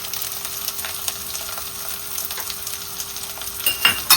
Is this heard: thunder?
no